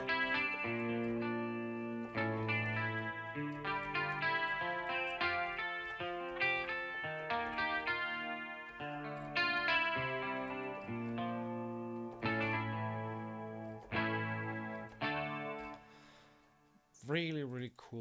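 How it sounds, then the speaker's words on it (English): A seven-string electric guitar is played through clean tone presets on an effects rack, ringing chords and arpeggios with chorus and echo, continuous and close, with a brief sweeping sound at the end. "I switched some presets here for the clean tones."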